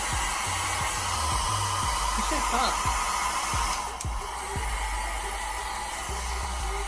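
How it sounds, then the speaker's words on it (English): A BOXYCHARM mini hair dryer blows with a steady, close whooshing roar, used on a cheap lace wig, while a person talks briefly over it. "I've seen a few videos where they use a hair dryer,"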